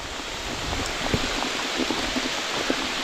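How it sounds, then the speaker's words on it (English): Steady heavy rain falls on an Appalachian Trail hike, a dense even hiss with scattered drops pattering close by and no voices. "Steady, big rain."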